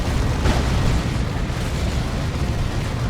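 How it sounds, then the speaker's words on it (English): Heavy lascannon blasts in Dawn of War 2 during a Space Marines versus Tyranids battle, a loud booming burst near the start followed by a continuous rumbling wash of battle noise. "Lascannon's getting the shots in."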